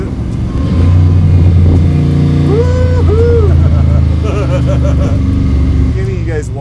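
A Shelby Cobra MkIIIR with a 7.3L Godzilla V8 rumbles loudly up close as it slows, its exhaust note steady with a few crackles, while people talk over it.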